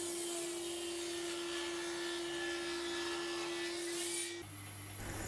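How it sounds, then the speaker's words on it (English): A bandsaw runs steadily while cutting oversized wood slabs in half, giving a constant close whirring hum with a high, even blade tone that drops away near the end as the cut finishes. "But I've got to cut all these in half now on the bandsaw."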